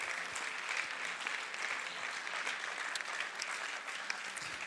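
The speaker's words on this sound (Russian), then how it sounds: "Давайте аплодисментами встретим." An audience at a church gathering claps to welcome a speaker to the stage, a dense, steady wash of applause that continues evenly throughout with no voices over it.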